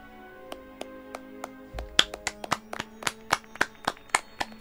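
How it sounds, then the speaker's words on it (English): A single person claps hands, starting with a few slow, spaced claps and then quickening into a steady run of sharp, close claps, each clap distinct. "Hey, we're clapping."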